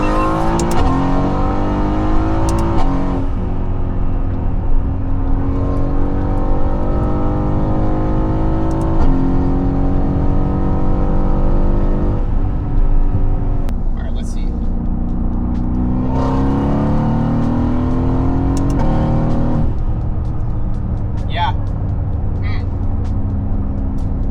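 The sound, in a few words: Mercedes-AMG GT S V8 exhaust note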